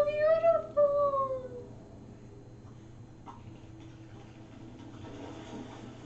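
A horse in Assassin's Creed Valhalla lets out a short, wavering whinny that falls in pitch over the first second and a half, then fades into quiet, steady game ambience.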